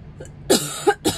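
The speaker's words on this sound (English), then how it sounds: "Let me mute and cough." Two or three short, harsh coughs close to the microphone, following a brief throaty sound.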